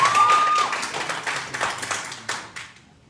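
An audience at a borough meeting about the Second Amendment bursts into applause, loud at first and then thinning to scattered claps that fade out within a few seconds.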